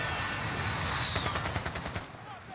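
Rapid automatic gunfire from a light machine gun in Warzone on Rebirth Island, a dense burst of closely spaced shots over a couple of seconds with faint voice underneath.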